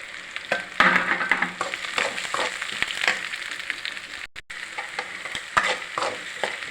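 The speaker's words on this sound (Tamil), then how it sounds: "அந்த உளுந்து முளை கட்டினது கொஞ்சம் போட்டு வதக்கணும்" Sprouted urad dal being sautéed in a pan, a close, lively sizzle broken by frequent scraping and stirring strokes of a spoon.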